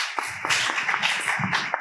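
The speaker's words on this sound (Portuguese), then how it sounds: "Uma salva de palmas aos nossos convidados." An audience at an agtech conference panel applauds its guests, a brief burst of sharp, fairly close hand claps with uneven rhythm, heard alone without talk.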